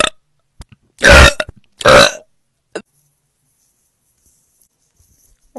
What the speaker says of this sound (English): That was a solid burp.